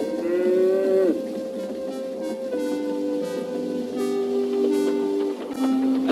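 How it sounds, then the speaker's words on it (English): A cow moos in long, steady, drawn-out calls that sound close and fill the whole stretch, set against a continuous background bed. "Moo, said the cow."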